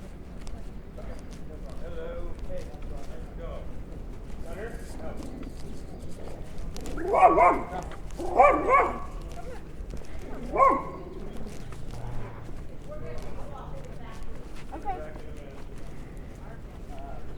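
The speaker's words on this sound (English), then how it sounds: "Little pet dog." A small pet dog barks a few times at moderate distance, short sharp yaps clustered over several seconds, heard outdoors along a residential Hermosa Beach street under steady background noise.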